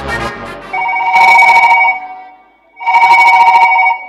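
A telephone rings for an incoming call, two loud bursts of electronic trilling with a short pause between them, heard alone without talk.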